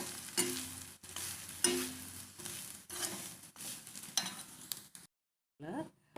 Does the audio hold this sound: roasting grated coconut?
yes